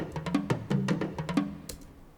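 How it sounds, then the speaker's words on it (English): Layered percussion tracks built in Logic Pro X for a Black Panther style film score, several drum hits stacked together like a group of drummers playing, with a steady rhythmic pattern of sharp strikes over about two seconds. "It's kind of like a bunch of drummers actually playing."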